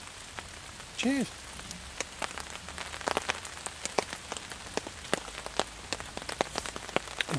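Rain patters steadily in a garden beside a hammock camp, with scattered drops striking surfaces at irregular intervals, fairly quiet and close, plus one brief tonal squeak early on.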